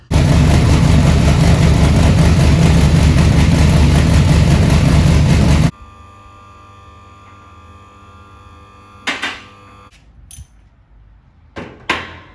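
A car engine idles loudly and steadily with a low, rough, tractor-like rumble for about six seconds, then cuts away to a quieter interior with a few brief knocks and clatters.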